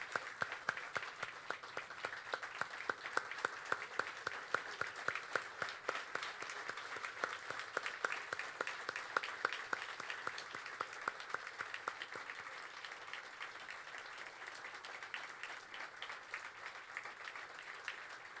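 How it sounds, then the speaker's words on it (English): Audience at the 2022 Ambassador of Golf award ceremony breaks into sustained applause, dense steady clapping from a sizable crowd heard at a distance, holding for nearly twenty seconds without talk. "join me in a round of applause"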